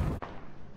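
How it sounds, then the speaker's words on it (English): A single mortar shot fires in a video game, a sharp low thump that cuts off suddenly and leaves a faint dull tail behind. "I'm mortaring right now"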